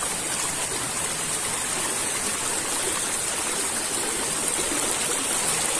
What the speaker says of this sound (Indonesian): jadi airnya ini lumayan cukup deras nih kawan-kawan